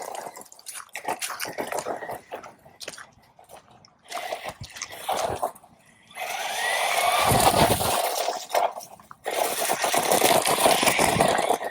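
A DEERC 8618 RC car crunches and rattles across loose, chunky gravel, its small motor whining under a steady scraping roar that cuts out in brief gaps between runs.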